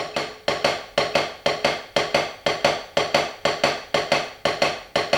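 A steady, looping drum pattern of sharp, evenly repeating hits, loud and close, with no voices.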